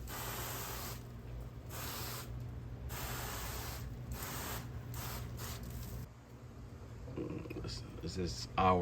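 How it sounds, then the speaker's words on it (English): A spray bottle spritzes smoked pork shoulder and brisket six hours into a cook. Repeated short hissing bursts in a steady rhythm are close and clear, and faint clatter follows. "I'll go ahead and give it a spritz"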